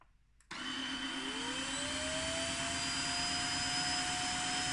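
A Tineco wet-dry vacuum cleaner in normal mode switches on after a brief quiet moment and runs steadily and loudly, its motor whine rising in pitch as it spins up, with no talking.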